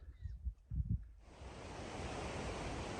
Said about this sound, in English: You can hear the raging river down there.